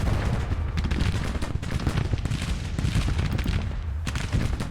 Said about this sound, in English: Got our 24-pounders going at it.